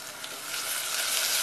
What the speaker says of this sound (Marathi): अशा मंद आचेवरती कांदा आणि टोमॅटो शिजवून घ्या